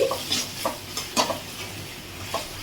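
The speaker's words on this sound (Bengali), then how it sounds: "এই রসুন বাটাটা দিয়ে এবার আমি এটা একটু নেড়ে নেব।" Onions and garlic paste fry in a pan, a soft steady sizzle broken by about five quick scraping strokes of a spoon stirring through them at close range.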